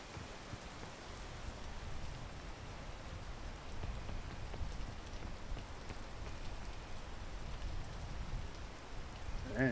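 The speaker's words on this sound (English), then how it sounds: "I can't see Nathan with this rain." Steady rain pours in a video game, a continuous hiss of drops hitting surfaces that stays even and fairly loud throughout, with no talk over it.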